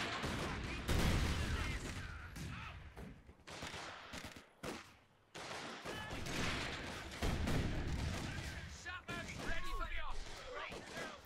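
Bursts of Vickers machine gun fire and other battle noise from Company of Heroes 2 gameplay, dense overlapping gunfire and explosions heard alongside a commentator talking.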